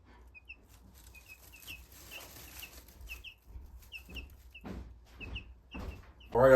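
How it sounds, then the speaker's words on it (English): Backyard chickens give soft, scattered clucks and short calls at a moderate distance over quiet ambient background, with a louder thump at the very end. "Y'all seen our chickens."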